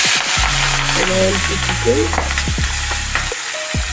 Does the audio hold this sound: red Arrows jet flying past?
no